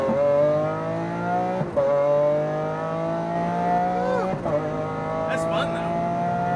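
A Porsche GT2 RS or Lamborghini Aventador SVJ powers along a track, its loud nearby engine holding steady revs before two sharp lifts and gear changes, then climbing again, with faint tire noise.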